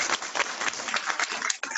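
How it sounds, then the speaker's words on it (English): Brief, fairly faint patter of audience clapping at a business presentation, with irregular bursts of hand claps over about two seconds. "give everybody a round of applause who's done that"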